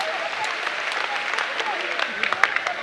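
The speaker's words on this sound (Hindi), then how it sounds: "ताली बजाओ इस बच्चे के लिए" A crowd claps steadily and enthusiastically at a religious discourse gathering, a dense wash of applause filling the room.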